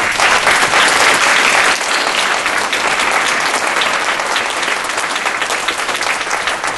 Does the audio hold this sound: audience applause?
yes